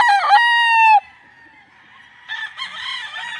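A Sweater Kelso gamecock rooster crows loudly and close by, one long drawn-out call trailing off, then a second rougher crow or clucking burst near the end.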